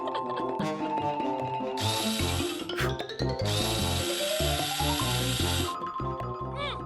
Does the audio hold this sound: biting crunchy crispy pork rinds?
no